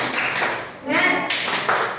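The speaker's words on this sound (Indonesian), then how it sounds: "Tepuk semangat dulu ya, tepuk semangat." Schoolchildren perform a rhythmic 'tepuk semangat' spirit clap together, a quick run of close, sharp hand claps in a steady beat with a short pause in the middle.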